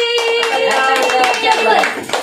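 People clap at a home birthday celebration for a child, quick scattered claps mixed under voices singing the birthday song.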